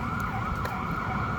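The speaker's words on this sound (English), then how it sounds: "Police sirens are rolling." Police sirens wail in a brief, steady, wavering tone over a low rumbling background.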